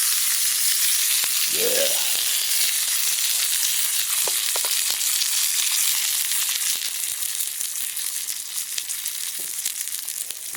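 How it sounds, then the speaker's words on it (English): Food frying in a Russian cast iron skillet, a loud, steady, close sizzle lasting throughout with a few faint clicks and one brief spoken word early on. "We're going to put this in that skillet."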